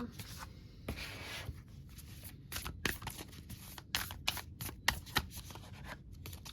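Close, quiet shuffling of a Moonology oracle card deck, with a run of soft riffling and tapping as the cards slide and knock together, heard alone.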